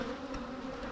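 Honey bees buzzing close by during a hive inspection, a steady continuous drone with a brief louder swell as one passes near.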